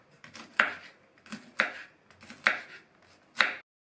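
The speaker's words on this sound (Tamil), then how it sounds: "இப்போ இந்த தண்டு பகுதியை இந்த மாதிரி குட்டி குட்டியாக கட் பண்ணிக்கணும்." Four crisp knife chops slicing amaranth (thandu keerai) stems into small pieces on a board, evenly spaced about a second apart, close and clear with no talking.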